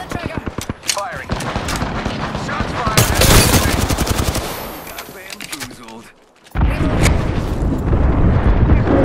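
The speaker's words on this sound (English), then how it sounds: "Pull the trigger. Firing." Rapid automatic gunfire in a team-based shooter game, loud bursts of repeated shots with a dense, crackling texture, briefly cutting out before firing resumes, with a voice talking over the action.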